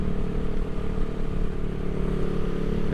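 Steady mid-pitched engine drone from a 1975 Honda CB360T motorcycle riding over bumps, loud and continuous with a faint rattling clatter throughout.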